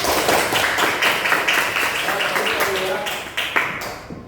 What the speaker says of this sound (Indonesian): Tepuk tangan untuk Ayu